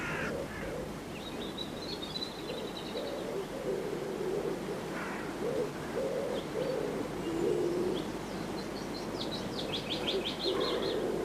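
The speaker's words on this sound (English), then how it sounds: "Listen to the pigeons." Pigeons cooing on hallowed churchyard ground, a run of soft, low, repeated coos under a steady outdoor hush, with a few higher bird chirps breaking in toward the end.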